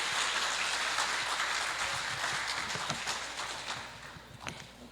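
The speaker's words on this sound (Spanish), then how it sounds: "Un aplauso para tan distinguido," Audience applause for a distinguished visiting speaker at a university international conference in Ecuador, a dense crackling wash of many hands clapping throughout, strongest at first and gradually thinning toward the end.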